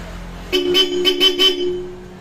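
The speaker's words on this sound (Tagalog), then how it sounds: "Tapos yung busina niyan, solid, Bosch Europa." A Bosch Europa horn on a Yamaha Aerox V2 motorcycle honks in four or five short, bright toots in quick succession, loud and close, with a steady engine hum underneath.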